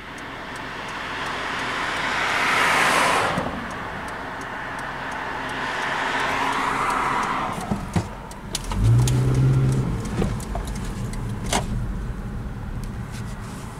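A car pulls out of a very short street, its engine building and fading as it moves off, with passing road noise and a few sharp knocks and clicks from inside the car.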